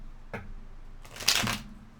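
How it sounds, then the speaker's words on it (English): Two quick riffling bursts of tarot cards being shuffled close by, a short flick followed by a louder, longer ruffle, quiet and with no talk. "I don't know why I can't shuffle today"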